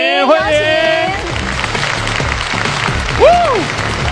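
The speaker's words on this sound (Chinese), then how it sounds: "掌声再热烈一些。" An audience applauds at a beauty pageant, a steady wash of clapping from a crowd throughout, with a host's amplified voice speaking over it.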